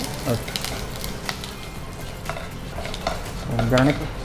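Oil sizzles and crackles steadily as curry leaves are stirred in a hot pan for tempering, with scraping and a brief murmur of voices near the end.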